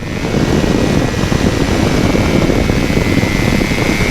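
A FlyLight Aeros NiNE microlight flies slowly, its engine and propeller giving a loud, steady droning roar with heavy wind rush, heard close from the cockpit.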